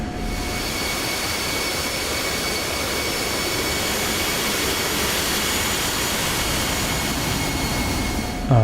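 Jet aircraft engine in a flight combat video game, taxiing off the ramp toward the runway: a steady, loud turbine roar with a constant whine holds throughout, with no speech.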